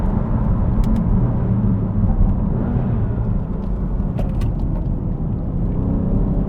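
A BMW F80 M3 driving along a country lane, with a steady, loud engine and road rumble held for the whole stretch and no talk over it.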